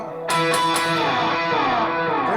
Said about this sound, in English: there's some good Gretsch-y kind of lead tones and things.